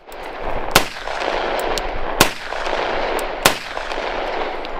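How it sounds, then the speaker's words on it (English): Three sharp shots from a 1990s Colt .45 pistol crack out at spaced intervals, loud and close, each followed by a brief echoing decay over a noisy background. "I've never heard a 45 sound like that. It's very shouty."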